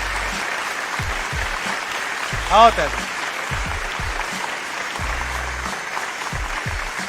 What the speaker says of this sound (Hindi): एक बार जोरदार तालियों से तहजीब हाफी का स्वागत कीजिए